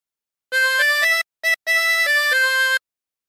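A 24-hole tremolo harmonica plays a short phrase of the Battle Hymn of the Republic: a few sustained, wavering reedy notes, close and clear, with one brief gap and a short stab, played alone.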